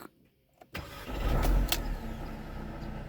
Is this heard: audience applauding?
no